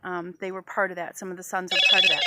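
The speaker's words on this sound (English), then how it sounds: "That's my phone." A mobile phone rings with a bright electronic tone that starts near the end, overlapping someone talking nearby.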